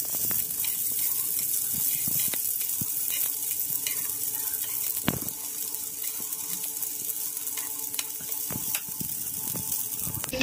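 Himachali patode, a traditional dish, shallow fry in a pan with a steady, close sizzling hiss and occasional light clicks and taps, with no talking.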